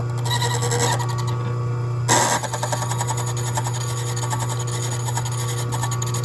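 An Ilco Improved Duplex key machine cutting into the bottoms of a key's cuts, a steady loud motor hum with a grinding, rasping cutter sound and a brief louder scrape partway through.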